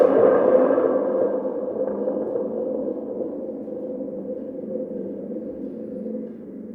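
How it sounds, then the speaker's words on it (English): A large thunder tube, a drum with a dangling spring, is whipped sideways and snapped back, giving a brief crack that rolls into a long, hollow, rumbling rattle fading slowly, heard alone. "large thunder tube, and we call this sound whiplash sound"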